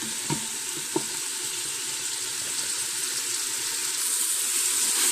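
Sausage and onion sizzle in the hot pot of an Instant Pot, a steady crackling fry with a couple of sharp stirring clicks early on, growing slightly louder toward the end.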